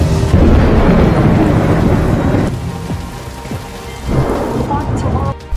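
Heavy rain pours down loudly and steadily while deep rumbling thunder rolls through. The downpour eases briefly midway, then swells again.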